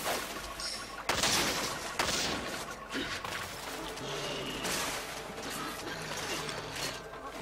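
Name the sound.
bowgun crouching fire shots in Monster Hunter 3 Ultimate video game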